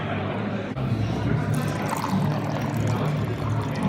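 Water poured from a container in an indoor building hallway, a steady close pouring and trickling rush lasting throughout, with a brief dip early on and no talk over it.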